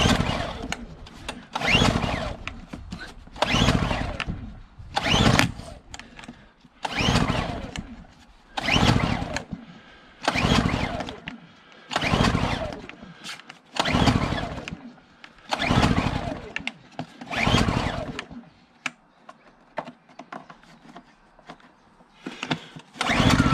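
SIP Medusa Ti-1002 generator being pull-started, about a dozen loud rhythmic bursts of the recoil starter cranking the engine in quick succession, each a few seconds apart, without the engine catching.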